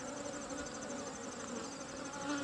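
Honey bees buzz during a hive inspection, a soft, steady hum of many insects that continues throughout at a fairly low level.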